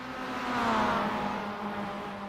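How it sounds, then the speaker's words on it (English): Mazda MX-5 Cup race car in the iRacing sim at the Nürburgring bouncing off its rev limiter, a steady buzzing engine drone that swells and then holds, loud and close, with no talk over it. "hearing the car just bump off the rev limiter."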